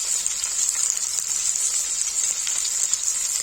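Food fries in a pan while a Kashmiri lotus stem and spinach dish is cooked. A steady, bright hiss of sizzling oil continues evenly and fairly close, with small crackles throughout.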